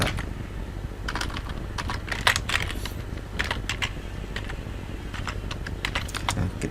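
Someone types HTML code on a computer keyboard, a close, steady patter of key presses in uneven bursts, with no voices.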